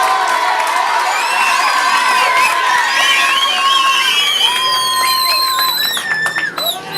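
At a school inter-class debate event, a crowd of pupils cheers loudly with shrill shouts, whoops and whistles over a constant roar of voices, and the cheering turns more scattered toward the end.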